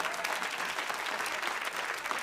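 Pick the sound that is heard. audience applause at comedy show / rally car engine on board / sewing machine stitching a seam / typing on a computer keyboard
audience applause at comedy show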